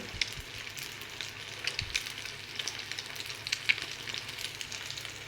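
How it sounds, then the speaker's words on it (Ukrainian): Potato pancakes (deruny) fry in a hot pan with a steady, close sizzle, dotted with small pops and crackles throughout, and no voices. "Жару дорончики, погляньте, як вони шкварчать."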